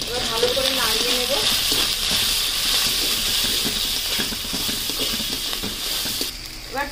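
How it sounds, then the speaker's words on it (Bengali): Ginger paste and turmeric powder stirred in oil in a frying pan, a continuous loud sizzle with frequent scraping strokes of the spatula throughout. "এবার ভালো করে নাড়িয়ে নেব।"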